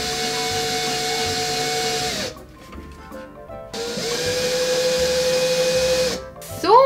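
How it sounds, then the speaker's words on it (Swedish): A power drill or screwdriver fastening a magnetic strip into a wall at home, whining steadily in two long close bursts with a short pause between, and no talk. "Man ska skruva fast magnetremsan i väggen."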